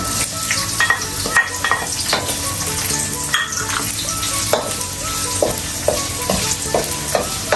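Onion and garlic sautéing in a pan for a baked macaroni sauce, a steady close sizzle broken by repeated scrapes and stirring knocks of a utensil against the pan, with no talking.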